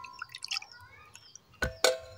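Melted jaggery syrup poured into a mug, faint trickling drips and glassy taps followed by two louder splashing pours near the end, close and quiet, no talk.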